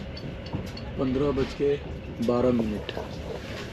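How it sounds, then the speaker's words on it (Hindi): Inside a passenger train running between Astana 1 and Petropavlovsk, a steady low rolling rumble fills the carriage throughout while someone talks over it in the foreground. "और ये ट्रेन एकदम सही टाइम पे चल रही है"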